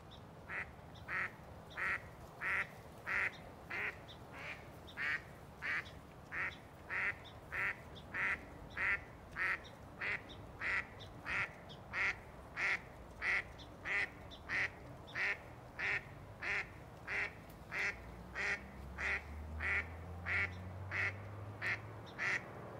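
Ducks quack loudly and repeatedly in a steady, regular rhythm for over twenty seconds, close by, with a low rumble rising near the end.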